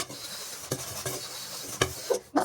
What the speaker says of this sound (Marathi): भांडी घासायची आता.